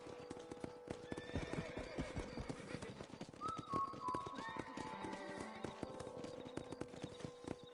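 Rapid hoof clip-clops of a galloping horse in Red Dead Redemption with an occasional whinny, steady and close, layered over soft background music.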